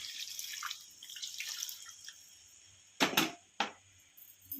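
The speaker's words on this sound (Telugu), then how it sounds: "ఓన్లీ రసం తీసేసి పోస్తున్నాము" Tamarind juice is poured into an eggplant curry in a pan, with quiet trickling and two sharp splashing drips near the end.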